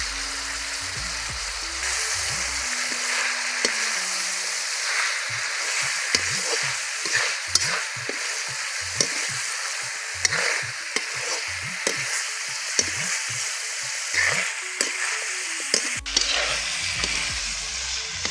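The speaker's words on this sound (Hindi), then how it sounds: "यहाँ पर अपना चिकन भी फ्राई हो रहा है धीरे धीरे" Large pieces of Kadaknath chicken frying slowly in a pan over a wood fire, a constant sizzle punctuated by regular scraping stirs, near and with no talking.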